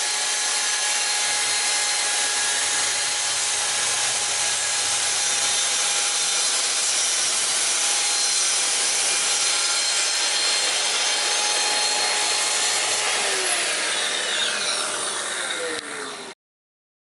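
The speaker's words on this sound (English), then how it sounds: "I'm going to take my track saw, lay it on the boards, and set up the clamps" A track saw cuts through clamped wooden boards with a loud, steady whine that holds for about sixteen seconds and then cuts off sharply. There is no talk.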